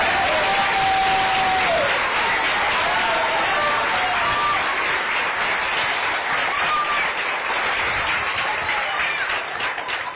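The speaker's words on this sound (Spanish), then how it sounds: "Fuerte ese aplauso" A church congregation applauds during an evangelical service, a sustained wash of many hands clapping that carries on for the whole stretch, fairly loud and dense, with faint voices and a shout or two mixed in.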